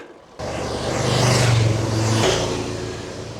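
A car passing on a mountain road: the engine swells in from quiet, peaks loud and close with a clear motor hum, then fades as it moves away, with no voices.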